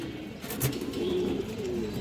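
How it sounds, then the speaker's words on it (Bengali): A pigeon held by a seller of fancy breed pigeons gives a low, throaty coo, fairly close and steady, over faint background noise with no talk. "এই দেখেন অনেক সুন্দর কবুতর"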